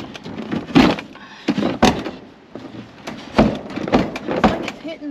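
A swollen wooden drawer in an abandoned storage unit is pulled out and sticks, giving a series of loud, close knocks and scraping thunks in uneven bursts.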